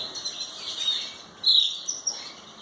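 Belgian canaries chirp in short bright bursts, several quick calls overlapping near and faint without any talk.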